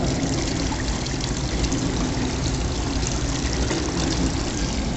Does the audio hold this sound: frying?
no